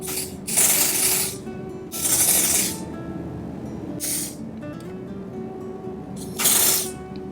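Huda Beauty spray foundation misted onto a face in four close, loud hissing bursts of about half a second to a second each, separated by short pauses, with no talking.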